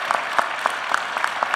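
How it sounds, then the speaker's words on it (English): Applause from the CPAC 2014 conference audience after the straw poll announcement, a thick, continuous wash of clapping with a few sharper individual claps standing out. "So give yourselves a nice round of applause for participating."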